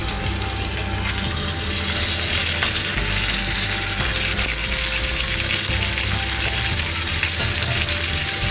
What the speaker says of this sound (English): let the oil heat, and then I'll add the chicken pieces to this.